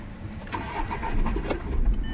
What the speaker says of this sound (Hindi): तो अभी मैंने इग्निशन ऑन किया है और इंजन को स्टार्ट करते एक बार देखता हूँ।